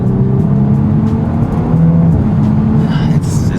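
An Audi S4 with a carbon intake and turbo inlet revs its engine, a loud, close, steady drone with a rising whoosh and hiss from the turbo near the end.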